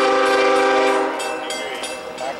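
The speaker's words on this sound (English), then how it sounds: "Freight train." A Canadian Pacific freight train horn, lead locomotive CP 8891, blares loudly in long harmonic tones over the rumble of the passing train, fading slightly toward the end.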